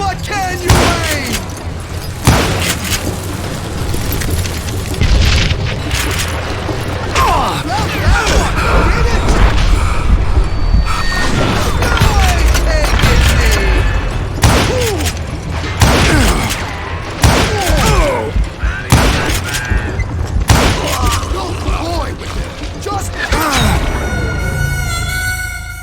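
Repeated gunshots and heavy booming impacts in the Western shooter Call of Juarez: Gunslinger, loud and close, firing in irregular bursts over dense crashing game effects, with voiced in-game dialogue mixed in.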